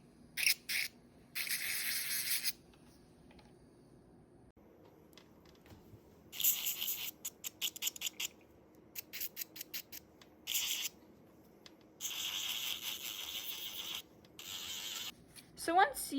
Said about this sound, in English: you're just filing the shininess off